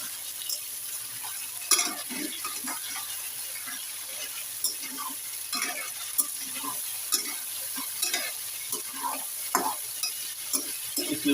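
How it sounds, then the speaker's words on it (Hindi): Chicken frying in hot oil in a karahi while being stirred, a steady close sizzle broken by repeated scraping stirs throughout. "ऑयल गर्म हो गया, अब इसके अंदर आप चिकन डाल दें। 5 से 7 मिनट तक कलर चेंज होने तक इसे चलाएं।"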